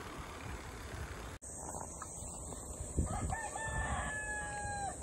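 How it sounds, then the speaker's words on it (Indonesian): A rooster crows from behind trees near a goat farm in Japan, its long drawn-out call rising and holding steady in the distance, heard over a constant high insect-like drone and outdoor ambience. "ada suara ayam berkokok lur"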